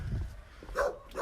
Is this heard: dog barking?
yes